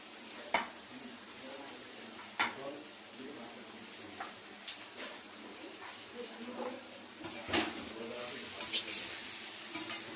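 Aloo gobi is stirred in a sizzling frying pan, with soft scraping strokes and occasional sharp clinks of the spoon against the pan over a low steady fry, and a voice talking intermittently.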